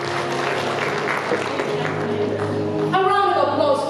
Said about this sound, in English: A round of applause for that amazing section.